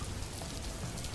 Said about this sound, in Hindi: बारिश थी कि रुकने का नाम ही नहीं ले रही थी।